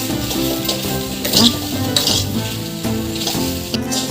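Okra frying in a pan until its sliminess cooks off, for an okra and tomato curry, with a loud close sizzle, occasional clinks and stirring knocks of a utensil against the pan, and no talking.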